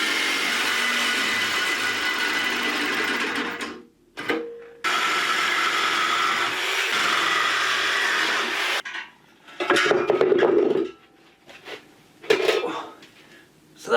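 Power tool cutting off the top piece of a Hydrovane compressor trolley, a loud continuous grinding whine that runs for about four seconds, stops briefly and resumes, then gives way to intermittent shorter bursts and clanks.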